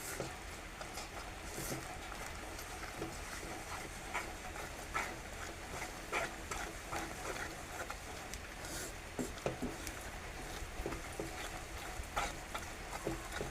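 Coconut and sugar mixture for coconut barfi being stirred in a pan, a steady scraping and soft sizzling patter that runs continuously at low level with no voices.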